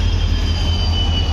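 Diesel locomotive moving off after decoupling at Rameswaram platform 1, a loud steady low engine drone with a faint high whine, brief and continuous.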